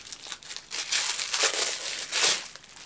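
Plastic packaging crinkles and rustles as a parcel of nail varnishes is unwrapped, close-up crumpling in uneven bursts with no talk.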